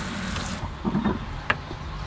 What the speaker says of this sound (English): with this pull of this lever here, we have water. It's a nice flow.